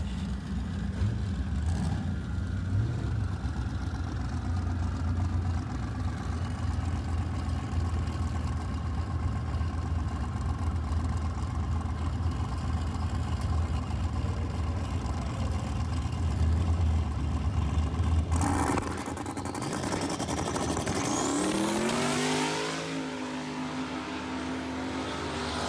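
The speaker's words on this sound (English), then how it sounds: "This is actually Brady and Paul making like a shakedown pass before they actually lined up to do their race." A boosted race car makes a shakedown pass at a test-and-tune drag event: a steady loud engine rumble builds, then surges and rises sharply in pitch as it accelerates away near the end.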